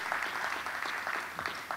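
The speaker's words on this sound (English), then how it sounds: "A round of applause" Conference audience applauding its sponsors: a dense, steady round of clapping from a room full of people, fairly close and uninterrupted, with no speech over it.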